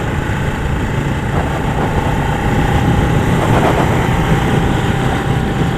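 A cafe-style motorcycle engine drones steadily while riding outdoors, a loud, constant rumble blended with wind noise throughout, no speech.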